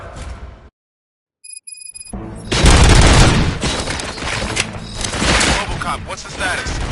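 Gunfire bursts out in the Robocop Rogue City video game, with dense rapid shots and booms following a brief silence and a few electronic tones, continuing loudly throughout.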